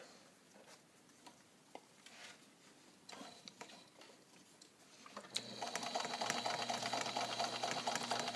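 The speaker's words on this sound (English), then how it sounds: "sometimes you want to sew webbing, and I wanted to show that to you and show you the machine can do it." A vintage all-metal Italian Necchi BU Nova zigzag sewing machine stitches through thick, dense webbing, starting after a quiet stretch of light handling noises and then running steadily with a fast, even mechanical clatter close by.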